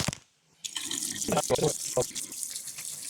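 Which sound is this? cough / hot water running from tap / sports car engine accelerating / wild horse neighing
hot water running from tap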